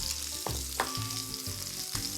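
Sea scallops sear in a hot pan with a steady, close sizzle and frying crackle, a few soft clinks or shifts of the pan breaking through, and no talk.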